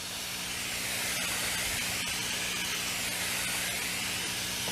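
A steady, fairly quiet hiss of water sprayed on low from a valved hose, wetting soil before sowing cabbage seed, continues throughout, with a few faint clicks and a low hum underneath.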